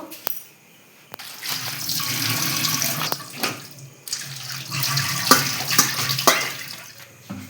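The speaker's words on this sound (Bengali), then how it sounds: "এবার ধুয়ে নেব" Tap water runs steadily into a sink while cut ash gourd pieces are rinsed, a broad hiss broken by brief pauses and splashy surges as the pieces are handled under the stream.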